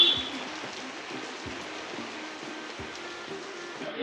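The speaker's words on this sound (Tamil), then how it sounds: "மழை வந்துச்சு." Steady rain falls throughout, a continuous soft hiss with occasional heavier drips and patters, moderately close and without talk.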